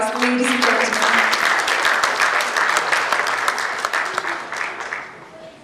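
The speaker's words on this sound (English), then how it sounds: "Please welcome them with a huge round of applause" An audience applauds at a youth awards ceremony for teenage achievers, a dense, loud round of clapping that starts at full strength and slowly thins toward the end, with a brief voice at the start.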